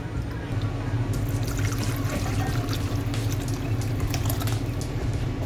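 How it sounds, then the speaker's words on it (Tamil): Cow's milk poured into a pot while cooking, a continuous close trickling and splashing stream that runs steadily throughout, with a low background hum. "இதுக்கு இப்போ பால் விடுறேன்."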